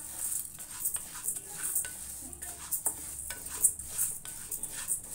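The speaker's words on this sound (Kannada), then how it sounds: "ನೋಡಿ ವೀಕ್ಷಕರೇ, ಈ ಸಣ್ಣದೊಂದು ಬಾಣಲಿ ಇಟ್ಕೊಂಡಿದ್ದೀನಿ. ನಾನು ಇದರಲ್ಲಿ ಹುರಿದ್ಬಿಟ್ಟು ತೋರಿಸ್ತೀನಿ ನಿಮಗೆ." Ingredients dry-roasting in a small pan on low heat for chakli, with a steady run of light scraping stirs and soft sizzling, close and fairly quiet, no talking.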